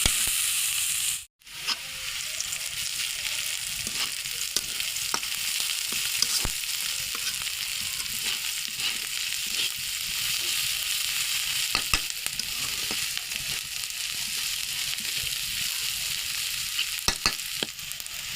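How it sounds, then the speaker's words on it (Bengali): Onions frying in a pan until brown for a tuna fish bhuna, a steady close sizzle and crackle running throughout with occasional stirring clicks, no talk. "পেঁয়াজটা ভাজা ভাজা করবো ভাজা হওয়ার জন্য অপেক্ষা করবো এবং ব্রাউন কালার হওয়া পর্যন্ত"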